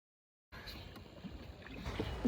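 On a shikara ride across Dal Lake, water laps and swishes steadily against the wooden hull. The sound starts after half a second of silence and grows slightly louder toward the end.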